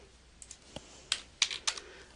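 Light typing on a computer keyboard, a handful of soft, irregular key clicks spaced apart, then a quicker cluster of taps, close and quiet.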